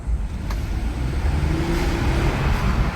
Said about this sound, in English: This V6 is pretty punchy, so let's see if we can make it make any noise, giving it a quick stab